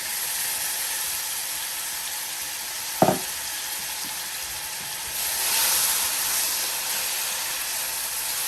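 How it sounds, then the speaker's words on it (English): Tomatoes hitting a pan of cooking spices for a chicken biryani, giving one sharp splash-like hit followed by a steady, fairly loud frying sizzle that swells briefly and continues with no talking. "Next I'm going to add my 3 tomatoes"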